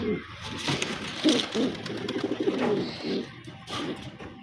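Several pigeons coo repeatedly in a loft, low throaty calls overlapping in an irregular rhythm throughout.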